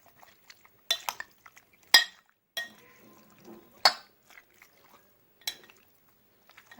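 Chicken is mixed by hand with a ginger-garlic paste marinade in a bowl, giving sparse, close clinks and soft wet scrapes a few seconds apart against near silence.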